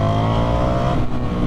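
An FTR 1200 motorcycle engine revs hard after a downshift into second gear, a loud, dense, continuous roar that dips briefly near the end.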